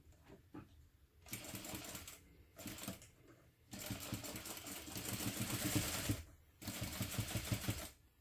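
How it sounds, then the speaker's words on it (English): Sewing machine stitching the seam of a mini backpack with nylon zippers, several runs of steady rapid mechanical chatter broken by short pauses, close and moderately loud, no talking. "you will sew this together using a 1/2 inch seam allowance"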